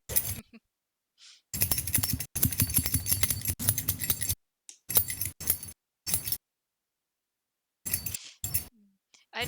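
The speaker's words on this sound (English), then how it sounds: "don't mind the jingling in the background" House keys jingle and clink in bursts of metallic rattling, with several irregular jangles broken by short pauses, fairly close and loud, with no talking over them.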